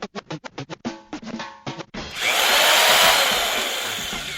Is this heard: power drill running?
yes